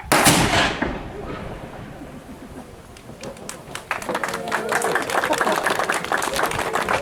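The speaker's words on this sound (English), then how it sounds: "this is a cannon. It will make a noise." A historic cannon fires at Fort Mackinac with one loud boom at the start, fading into open air, followed by the clatter and applause of a crowd.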